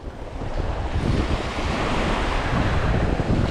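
Ocean waves wash onto a tropical island beach at night in a loud, continuous rush of surf, with heavy wind buffeting the microphone and no voices.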